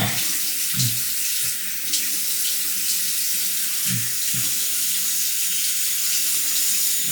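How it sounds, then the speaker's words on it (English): Tap water runs steadily into a sink while a face is rinsed before a shave, a close, continuous hiss broken by low splashes as hands scoop and throw water. "let me rinse the face and get the pre-shave going on"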